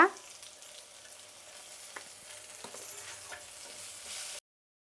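Curry leaves, cumin powder and asafoetida frying in oil with onions for sambar, a soft continuous sizzle beneath occasional stirring scrapes, fairly quiet and close, cutting off abruptly near the end.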